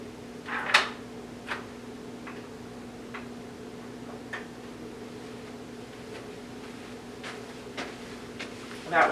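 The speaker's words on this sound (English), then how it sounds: "That sounds like the door clicking." Sharp door clicks in a quiet interior room: a louder click near the start and another at the end, with a few faint scattered ticks between over a steady low hum.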